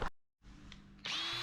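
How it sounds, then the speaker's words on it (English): A power buffer works rubbing compound over Nissan Skyline headlights, its motor whirring in two bursts split by a short pause, then rising to a higher, steadier whine. "And now we're going to buff them."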